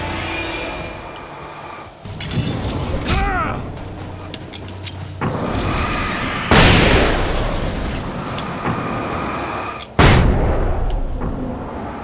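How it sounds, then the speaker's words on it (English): Flashbang grenades and gunfire in the video game Alan Wake, with several loud sharp bangs and blasts over a rumbling combat backdrop, a voice speaking briefly between them. "Flashbang doesn't do anything to these guys?"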